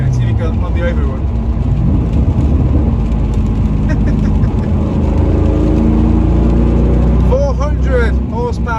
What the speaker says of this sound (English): I've got the exhaust valves open now, so you can hear it